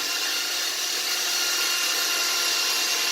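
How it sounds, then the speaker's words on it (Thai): A power drill bores three holes into a wall to fix anchors and bolts for mounting a curtain rail, giving a steady, loud, close whine that runs without a break and with no talk. "ตอนนี้ก็จะเป็นการ เจาะรูนะครับ เพื่อที่จะเอา ยึดน็อตนะครับ ยึดพุกเข้าไว้นะครับ เจาะรูทั้งหมด3รูด้วยกัน"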